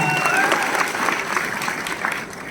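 An audience applauds steadily at a company event, a dense wash of claps close and fairly loud throughout.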